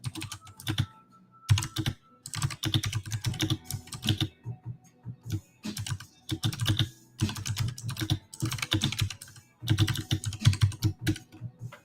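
Brisk typing on a computer keyboard, dense clattering runs of keystrokes broken by short pauses, close and fairly loud, with no talking.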